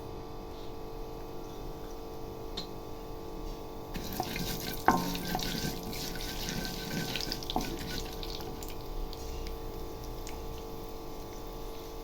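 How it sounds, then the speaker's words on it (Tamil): Mustard and fenugreek seeds drop into hot sunflower oil for a gongura chutney, setting off a sharp burst of spattering crackle midway over a steady background hum, then settling back to a softer sizzle. "இப்போ எடுத்து வச்சுக்கிற கடுகு வெந்தயம் போட்டுடலாம்."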